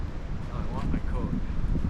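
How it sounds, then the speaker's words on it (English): Wind gusts through a snowy winter forest, roaring against the microphone in a steady, broad rush. Faint voices murmur underneath. "Yeah, the wind's picking up."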